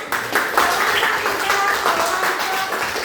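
Classroom applause from students in an Indonesian-language high school lesson, a short burst of scattered clapping mixed with voices and chatter for about three seconds.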